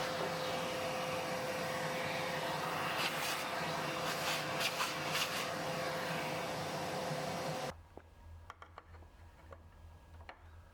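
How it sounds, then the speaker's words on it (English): A vacuum cleaner cleans the grills of a Bambu Lab H2D 3D printer with a loud, steady whine and rush of air, then cuts off abruptly, leaving faint ticks and clicks in a quiet room. "I always vacuum the adjacent grills clean as well."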